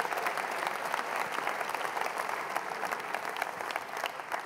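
A lecture audience gives a steady, moderately distant round of applause for four volunteers after a mathematics magic act, even and unbroken throughout.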